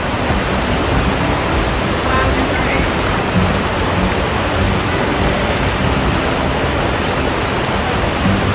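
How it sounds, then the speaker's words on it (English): An Alaskan waterfall roars in a constant, full rushing wash of water, loud and unbroken throughout. "I can hear the waterfall from here."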